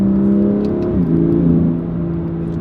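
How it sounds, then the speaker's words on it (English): BMW M2 Competition with its sports exhaust revving, a deep steady engine drone that dips and settles mid-rev, engine note more prominent than the exhaust, close and loud with no crackles. "You hear more the engine than the exhaust."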